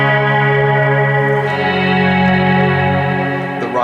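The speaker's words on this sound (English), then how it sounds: "This gives you some volume swell-like reverb tones." Strymon BigSky guitar reverb pedal set for volume-swell reverb, with sustained electric guitar chords blooming into a dense, shimmering wash that rings steadily for several seconds before a new attack near the end.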